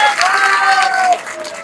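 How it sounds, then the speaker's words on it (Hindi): Audience clapping and cheering for a child at a devotional gathering, a dense burst of applause with crowd voices that swells briefly, then fades within under two seconds. "जोरदार ताली बजाओ बच्चे के लिए"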